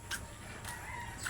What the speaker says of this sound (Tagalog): Mga manok yan.